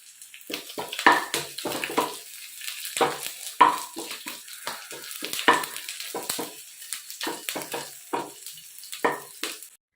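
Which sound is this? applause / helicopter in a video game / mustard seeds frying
mustard seeds frying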